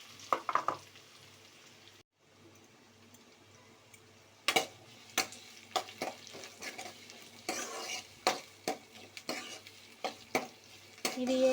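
Chana dal, mustard seeds, curry leaves, green chillies and onion pieces frying for a papaya curry, with repeated sharp scraping stirs and clinks against the pan over a quiet sizzle, close by and uneven in rhythm, with no talking.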